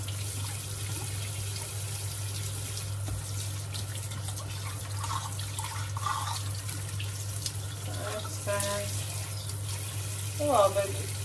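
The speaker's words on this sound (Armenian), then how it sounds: "ամեն անգամ մեր ջրի բաժակներն եմ լվանում" Drinking glasses being washed under a running tap: water pours steadily at a sink with light splashes, drips and a few faint clinks of glass, while someone speaks quietly over it.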